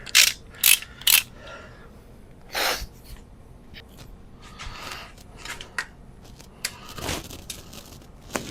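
A ratchet works on the exhaust manifold bolts of a Toyota FJ40, giving sharp clicking bursts at first, then scattered quieter clicks and mechanical clatter in a close, quiet workshop space.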